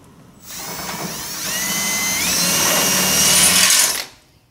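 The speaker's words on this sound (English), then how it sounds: "This is a half inch drill bit." A power drill with a half-inch bit bores a hole while fitting a bolt-on trailer swing hinge kit, its motor whining and rising steadily in pitch for about four seconds, loud and close, with no talking over it.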